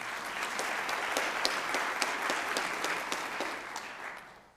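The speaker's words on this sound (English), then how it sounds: "you got a better applause than I did." Steady, dense applause from a seated audience at a senior hall of fame ceremony, a crowd of hands clapping evenly for several seconds, then tapering off at the end.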